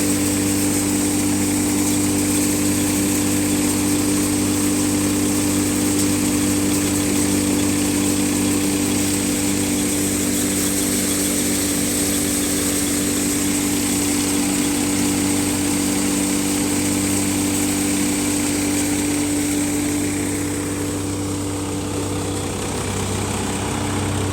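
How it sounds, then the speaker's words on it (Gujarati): A tractor engine running a wheat thresher idles steadily and loudly, a constant low rumbling drone with no speech, holding an even pitch throughout. "બે મિનિટ માટે તમે ટ્રેક્ટરનું સાયલેન્સરનો અવાજ અભળો"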